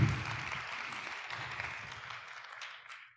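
An audience at a youth conference claps together, a sustained wash of applause that fades gradually toward the end, with no voices over it.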